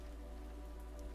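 Rain is used as a sound effect in a tabletop role-playing game session when a character accidentally summons cool mist. It comes through as a soft, steady patter over a low continuous hum, faint and unbroken.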